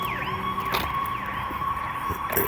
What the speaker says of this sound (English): That's the same fucking ambulance. Okay. Fucking thing just drove around the block. Sirens blaring the entire time.